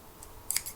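Scissors snipping through paper. A few quiet, close, crisp snips cluster near the end after near-silence.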